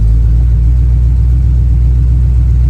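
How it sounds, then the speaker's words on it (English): A Chevy V8 with an HEI distributor idles around 1000 RPM, a loud, close, steady low rumble with no change in pitch across the short stretch. "We're idling around about 1000 RPM"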